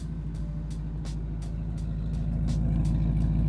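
A Pontiac GTO with an LS1 V8 idles close by in a deep, steady rumble, with a rhythmic series of faint ticking clicks over the top and the engine growing slightly louder toward the end.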